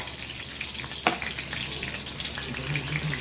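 Mustard seeds, garlic, green chilli, curry leaves and cumin temper in hot oil for dahi curry, a dense, continuous close sizzle and crackle with small pops throughout.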